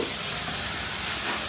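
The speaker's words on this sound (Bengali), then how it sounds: "পটল ভাজছি" Pointed gourd (potol) frying in a pan in a home kitchen, giving a constant close hiss and sizzle with no breaks, steady in level for the brief moment.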